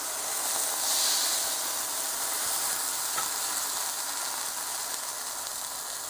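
Rice wine vinegar and sake hit a hot pan of browning eggplant and hiss, giving a loud, steady sizzle and steam hiss that fades slightly over several seconds.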